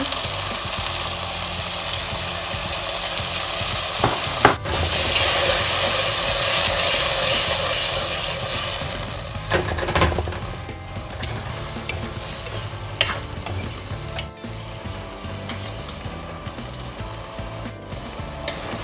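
Mushrooms stir-fry in a pan with an oyster sauce and soy sauce mixture, a loud continuous sizzle that swells as the liquid goes in, punctuated by spatula scrapes and knocks, with no speech.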